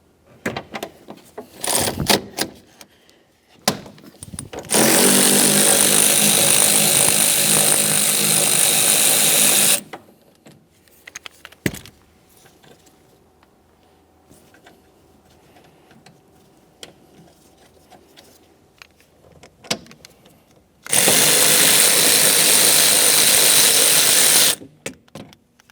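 Power tool spinning off a rear shock mounting nut on a 1994-1997 Honda Accord, two loud sustained whirring runs of several seconds each, separated by clanks and small handling noises nearby.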